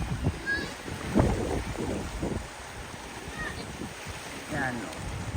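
Strong typhoon wind and rough sea at the shore in Siargao during Typhoon Bebinca: gusts buffet the microphone over a low, rolling wash of waves, with faint voices in the background.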